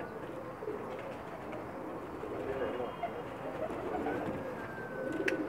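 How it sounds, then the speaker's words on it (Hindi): Soft cooing from Pakistani flying pigeons on a rooftop murmurs through a busy, noisy outdoor background with steady ambient hum; the calls stay low and partly buried. "माशाल्लाह परवाज़ी कबूतर हैं जी उनके।"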